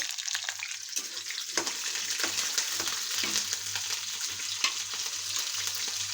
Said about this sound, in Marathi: त्यात आपल्याला हिरवी मिरची टाकून घ्यायची, चिरून घेतलेली, ती पण तळून घ्यायची